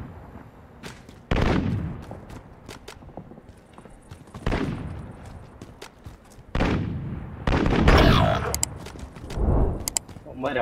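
Gunfire in a Call of Duty Modern Warfare multiplayer match comes in several loud, sharp bursts and rapid volleys, separated by quieter stretches of in-game ambience.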